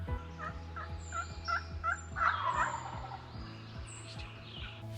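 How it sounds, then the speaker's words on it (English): Wild turkey gobbling from its roost, several fast rattling gobbles in close succession, loud and near, with no talking. "it gobbled its head off on the roost"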